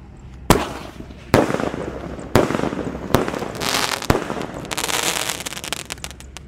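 Roman candle bazooka fireworks launch outdoors with a series of sharp, loud bangs about a second apart, each followed by crackling fizz and hiss, and the bursts grow denser toward the end.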